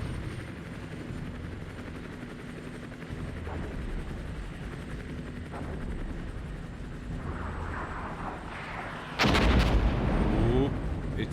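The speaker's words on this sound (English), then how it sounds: "Ooh, ATGM from our infantry." An infantry anti-tank guided missile launch in the Armored Brigade 2 Cold War battle game, a sudden loud blast and whooshing roar cutting in late over a low rumble of distant artillery and helicopter drone.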